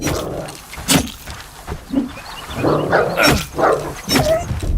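A dog barks several times in the survival video game Dysmantle, loud sharp bursts spread across the moment and mixed with other in-game noise.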